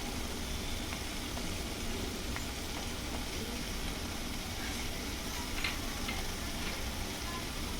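Masala with red chilli sautéing in a pan, a steady dense sizzle of frying that runs unbroken and close, with faint scrapes and ticks of stirring scattered through it and no talk.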